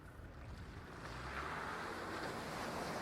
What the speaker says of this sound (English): it's amazing how much water you actually push in front of you